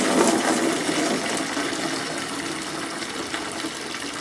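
Water draining steadily out of a central heating system filter, a continuous close gushing splash that holds at an even level before easing slightly.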